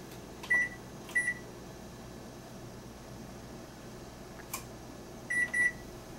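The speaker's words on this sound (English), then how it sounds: "Let's set our timer." Kitchen oven timer being set while pretzels bake at 425 degrees: short electronic beeps in small groups, two pairs near the start and another pair near the end, over a steady room hum with quiet gaps between.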